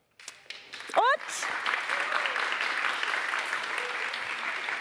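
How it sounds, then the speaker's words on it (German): Applause for a student rises from an audience after a few sharp sounds and a brief rising whoop or whistle, then settles into steady, moderately loud clapping that continues to the end. "Ein Riesenapplaus für die Studentin."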